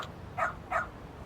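A dog barks twice in the video game Lost Judgment, two short, clear yips in quick succession over a faint low background hum.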